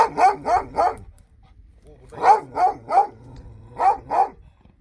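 A Kangal dog barks in short bursts of three, pausing between groups, fairly close and loud, with faint background noise.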